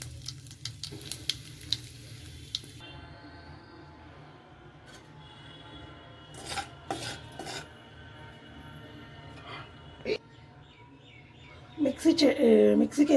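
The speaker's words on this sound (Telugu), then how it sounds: "పోపు బండి వేసేసాను." A pan tempering of two dried red chillies and a pinch of asafoetida for cucumber (dosakaya) chutney sizzles loudly for a few seconds, then settles into a quieter hiss with occasional clatters of utensils.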